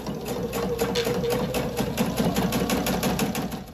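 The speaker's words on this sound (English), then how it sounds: "But I'm going to use the walking foot. And you just start by sewing the first strip down." A sewing machine fitted with a walking foot stitches a quilt strip in one steady, close run of rapid needle clatter lasting a few seconds.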